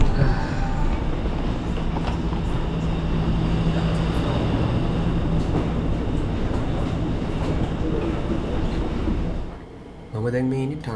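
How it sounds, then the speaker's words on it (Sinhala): A Singapore MRT train rumbles loudly into the station with steady rolling wheel noise and faint squeals, then fades abruptly near the end as a voice begins speaking. "ආ විනාඩි දෙකකින් ට්‍රේන් එක එනවා කියලා තියෙනවා."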